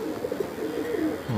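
A golden pigeon coos softly and close by in repeated low, throaty notes over a steady background murmur.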